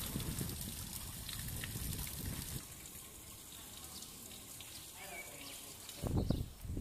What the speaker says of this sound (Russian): Вода из питьевого фонтанчика бежит, и никто ее не закрывает.